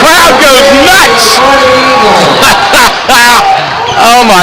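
A basketball crowd erupts after a bank shot, loud overlapping cheers, whoops and yells filling the gym continuously and close, with voices shouting throughout.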